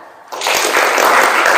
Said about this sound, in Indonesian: Tepuk jamak ya tepuk tangan